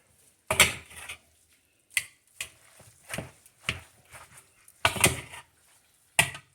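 Pulled pork is stirred in a crockpot with a utensil, giving a series of distinct scraping, clattering knocks at irregular intervals, close by, separated by quiet gaps.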